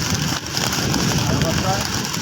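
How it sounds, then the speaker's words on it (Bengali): Steady, dense rain hisses continuously throughout over a market street, a loud even wash with no breaks. "এই বৃষ্টির মধ্যে এরা রেইনকোট গাড়িছে"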